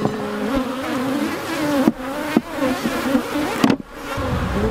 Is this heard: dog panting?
no